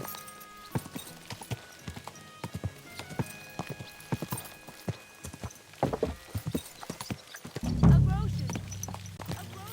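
Rhythmic clip-clop of horse hooves on a medieval town street in Kingdom Come Deliverance II, steady and near, with music and voices underneath and a louder rumbling burst near the end.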